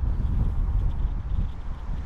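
Wind sweeps over an exposed hilltop ridge near a highway, making a continuous low rumbling roar against the microphone that eases slightly toward the end.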